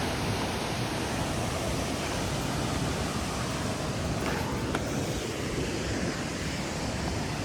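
The Kalu Balu waterfall near Kondeshwar temple gives off a dense, continuous roar of falling water, loud and unbroken for the whole stretch, with no voices.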